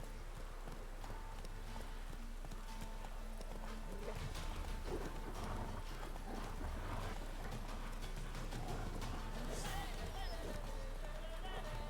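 Horse hooves clip-clop steadily in a video game as the horse trots along a trail, a continuous rhythmic patter over a low background rumble, with faint ambient game sounds and no speech.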